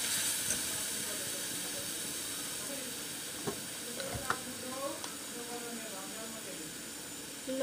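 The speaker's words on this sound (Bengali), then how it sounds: "তেলের মধ্যে কাঁচা মরিচ পেঁয়াজ আর রসুন বাটা দিয়েছি।" Green chillies, onion and garlic paste sizzle steadily in hot oil with a continuous soft hiss, broken by a few stirring clatters and faint background voices.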